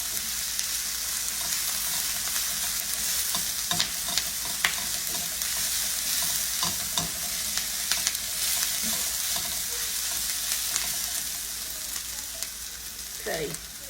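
Peppers and onions fry under a lid in a pan, giving a steady broadband sizzle with scattered pops and crackles and a few brief clinks near the end, with no talking.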